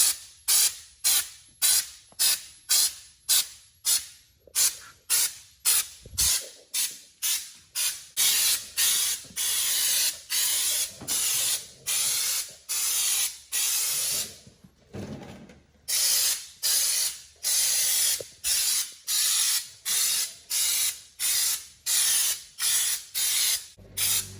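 Spray gun set at 45 PSI laying paint and clear coat onto a Duramax truck body panel, a series of loud, evenly spaced hissing bursts with short gaps between passes, close and alone.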